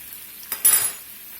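White wine added to a salmon pan reduces with a short burst of bright sizzle after a brief clink, then fades back to a low hiss, with no talking.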